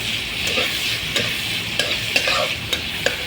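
Potatoes, green chillies and ginger-garlic paste fry in an oiled pan with a bright steady sizzle, while a spatula scrapes and taps in quick irregular strokes; no one speaks.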